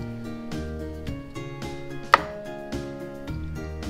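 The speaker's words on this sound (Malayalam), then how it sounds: "ഇനി നമുക്ക് ഷക്ഷുക്കയ്ക്ക് വേണ്ടി എങ്ങനെയാണ് വെജിറ്റബിൾസ് കട്ട് ചെയ്യുന്നത്" A knife slicing through a tomato on a board while preparing vegetables for shakshuka, producing soft cutting thuds and one sharp knock, set against steady background music.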